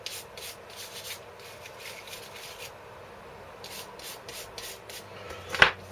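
Axle parts of a diff-lock rear end being scrubbed: soft, quiet rubbing strokes in short bursts, close by, ending with a brief sharper knock.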